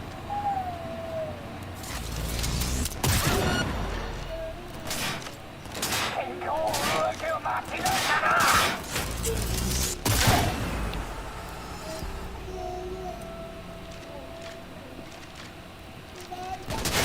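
Gunfire from the video game Cyberpunk 2077 crackles in bursts over a busy background, with a sharp loud shot near the start and another around the middle.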